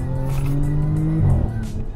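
Audi S4 B8 sedan with a supercharged engine, rated 460 horsepower, droning steadily with a sustained whine from the supercharger, close and loud, shifting pitch slightly partway through.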